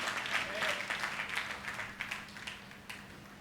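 A church congregation claps together at a promise service, a brief burst of dense, fairly close clapping that thins toward the end.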